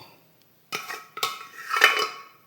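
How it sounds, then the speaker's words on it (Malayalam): A few sharp clinks and scrapes of a utensil against a clay pot as cooked food is transferred, in three short bursts close by, with brief quiet between. "ഞാനത് ചട്ടിയിലേക്ക് മാറ്റുന്നുണ്ട്"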